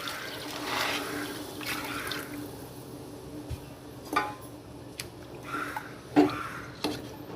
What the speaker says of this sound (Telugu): ఈ విధంగా ఫ్రై చేసుకున్న తర్వాత వాటర్ వేసుకోవాలి.